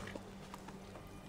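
Horse hooves clip-clop softly in a Viking-era video game, a few faint muffled steps over low background hum.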